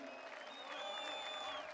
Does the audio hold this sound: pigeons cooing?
no